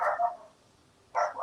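Puppies bark in two short bursts, a quick yappy cluster at the start and another after a brief pause, fairly close and moderately loud with no talking.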